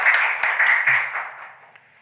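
Audience at a policy forum on virtual asset taxation gives a short burst of applause, dense clapping that fades out over about two seconds.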